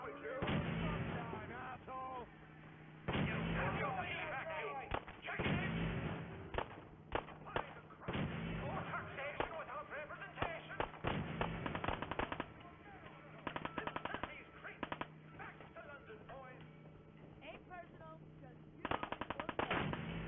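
Rifle and automatic gunfire in the video game Fallout 4, coming in repeated loud bursts of rapid shots separated by quieter gaps, with a steady game hum underneath.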